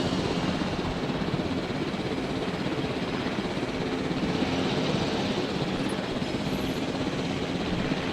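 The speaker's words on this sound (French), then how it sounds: "tu vois l'hélico dans les airs pour surveiller" Helicopter patrolling the air above a dinosaur park in Jurassic World Evolution, a steady, loud, unbroken rotor and engine drone that fills the whole stretch, with no voices.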